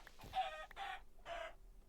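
Three short, quiet chicken clucks from a Minecraft OneBlock game in quick succession, separated by brief pauses, with nothing else audible.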